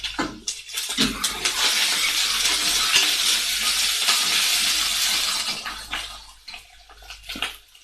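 Chilli base being stirred in a cooking pot, a continuous sizzling, scraping hiss lasting several seconds before easing off, close and without talk.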